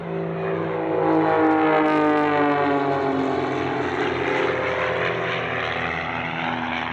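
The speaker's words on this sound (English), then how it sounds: "The yellow aircraft flying in the lead is the Wulf Pitts Pro" Pitts aerobatic biplanes, including a yellow Pitts Pro developed from the S1S, fly at an airshow, their propeller engines droning loudly and steadily with a shifting pitch as they pass overhead.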